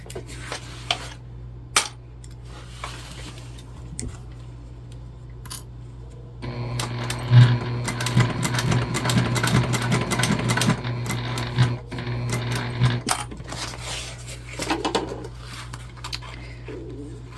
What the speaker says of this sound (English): And we are back stitching here.